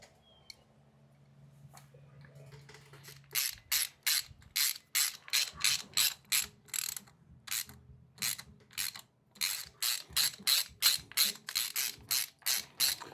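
A wrench ratchets on bolts of a 2006 Harley-Davidson Dyna, giving a long run of sharp, evenly spaced clicking bursts, close and fairly quiet, with a low hum underneath at the start and no speech.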